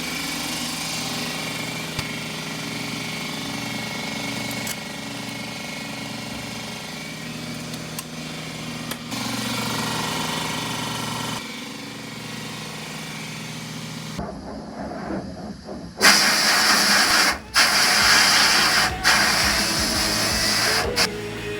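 A media blaster cleans parts before wrinkle red powder coating: a steady mechanical drone runs first, then loud, harsh blasting hiss erupts near the end in bursts with short breaks.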